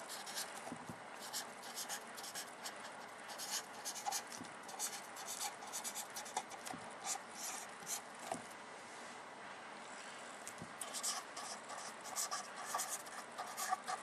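Pen scratching across paper while a math solution is written out by hand, a continuous faint scribbling with small taps and strokes over a soft background hiss.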